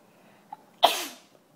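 A single sharp sneeze from a child in a classroom bursts out close and loud, preceded by a faint intake, then fades quickly into quiet.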